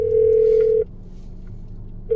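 A phone line rings out at the start of a recorded call, a loud steady electronic tone held for nearly a second, then a pause before the next ring begins.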